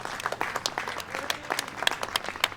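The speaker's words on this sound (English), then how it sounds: "So can we give them a round of applause?" An outdoor crowd at a Pride flag raising ceremony applauds city councilors, a steady patter of many hands with a few sharper individual claps standing out, heard faintly and from a distance.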